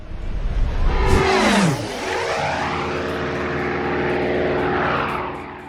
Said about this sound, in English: How low of a flyby.